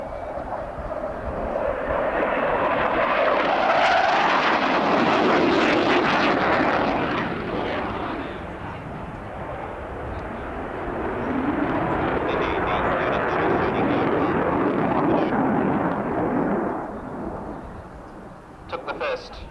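A Panavia Tornado F3 air defence jet of the RAF roars past at the 1990 RAF Abingdon airshow, a loud sustained engine rumble that swells, eases and builds again, with a commentator talking over it.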